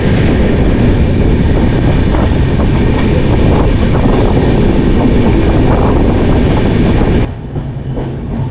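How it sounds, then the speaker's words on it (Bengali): A train entering Bardhaman station, loud rumbling wheels and rattling carriages heard up close from on board, steady throughout before easing down in the final second. "ট্রেন এখন আমাদের বর্ধমান স্টেশন ঢুকছে।"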